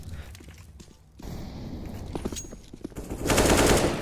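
Rapid automatic gunfire and clattering shots in a CS:GO match on the Train map between Virtus.pro and AVANGAR, arriving in dense bursts that swell louder toward the end, with no clear talking.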